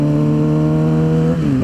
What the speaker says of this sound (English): there is 5 rev match downshifts right there for you